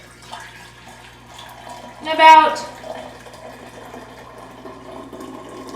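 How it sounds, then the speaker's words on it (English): Homemade non-carbonated kombucha is poured back into a bottle in a short gurgling splash lasting about a second, set amid quiet speech. "I'm going to pour a little bit of this back in."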